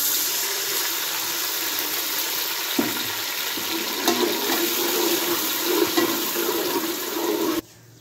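Water pours into a cooking pot while whole masoor pulao is being prepared, a steady rushing splash for about seven seconds that stops abruptly.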